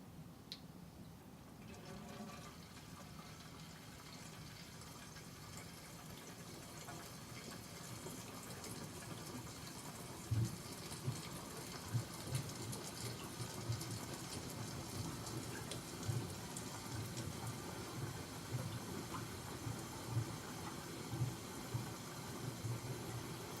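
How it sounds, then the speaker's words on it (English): Big bubbles rising in reef aquarium water, a steady watery trickle and hiss with soft repeated pops and gurgles, close and fairly quiet. "Definitely getting some big bubbles there."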